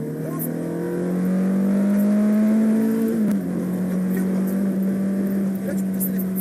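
A race car on the Grand Sambuc circuit accelerates at full throttle, its engine note climbing steadily and loudly, then dropping briefly at a gear change before pulling again, heard from inside.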